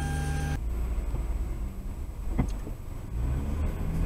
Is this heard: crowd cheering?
no